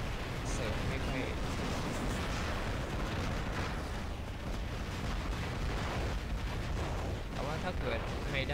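Rocket explosions and weapon fire from the mobile robot combat game War Robots on Android, a dense, continuous barrage of booms and blasts filling the whole stretch at steady loudness, with someone talking over it.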